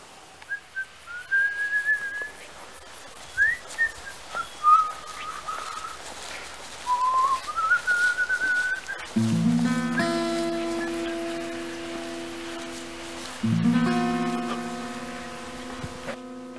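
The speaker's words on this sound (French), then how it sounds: "Tu sifflotes dans l'herbe" A person whistles a meandering tune outdoors, sliding melodic phrases close and clear, then sustained steady tones take over in the second half.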